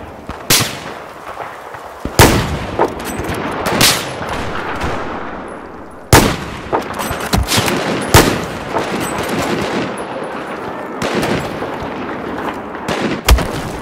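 Battlefield 4 gunfire on Xbox One: repeated sharp shots and bursts, some close and loud, others farther off, cracking through a constant rumble of battle noise with no talking.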